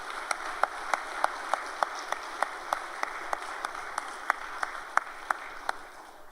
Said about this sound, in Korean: 우리 남자들, 우리 여성들을 위해서, 어머니들을 위해서 크게 박수 한번 해주시면 감사하겠습니다.